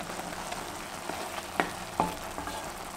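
Tomato rice bubbles and sizzles in a pan on medium-low heat, a steady soft simmer broken by a couple of sharp pops and clinks.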